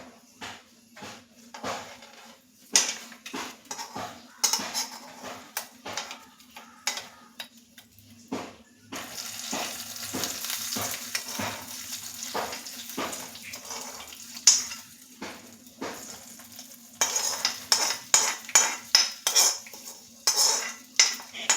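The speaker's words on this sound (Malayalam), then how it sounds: "നമ്മൾ നേരത്തെ തയ്യാറാക്കി വെച്ചിരുന്ന 2 കറികളിലേക്കും ഈ താളിപ്പ് ചേർത്ത് കൊടുക്കാം" A spoon clinks and scrapes against metal pans while tempering is added to two Kerala curries, with irregular sharp taps and clatters, denser and busier toward the end.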